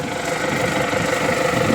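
A 2022 MTZ 892 tractor engine idles with a steady, even mechanical hum and vibration, close and fairly loud, with no talking.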